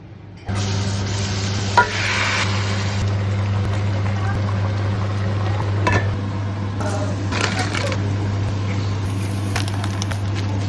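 Breakfast cooks in a pan, with continuous sizzling and frying under a strong steady low hum, and scattered scraping and clinking from stirring. Occasional sharper knocks of utensils against cookware cut through.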